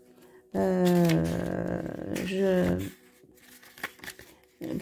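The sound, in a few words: handling and shuffling tarot cards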